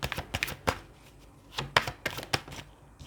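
Tarot cards being shuffled by hand, a string of quick, crisp card slaps and riffles in irregular bursts, close-up and moderately quiet, with no talk over them.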